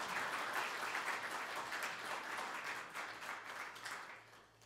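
Steady applause from an audience at a Buddhist spring dharma assembly held at the National Assembly, dense clapping sustained throughout and gradually tapering.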